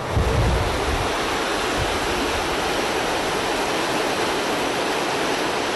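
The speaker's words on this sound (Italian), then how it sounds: "sentite dal rumore della macchina al rumore di quest'acqua impetuosa" Rushing torrent of river water surging under a road, a loud, dense, continuous roar close at hand, with a brief low rumble at the start and no voices.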